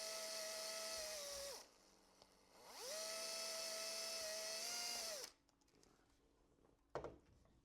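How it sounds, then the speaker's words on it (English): A small power drill whines through screw holes in a Hobbyking Catalina model plane during a gun turret retrofit. Two loud, high-pitched bursts spin up and wind down, with a pause between them, then quiet handling and a sharp click follow. "I'm going to drill the other 2"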